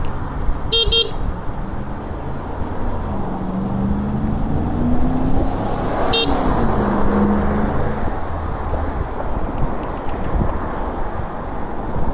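Car horn honks on a busy road heard from a bike lane: two short sharp toots, one early and one midway, over constant traffic rumble and passing engines, with no talking.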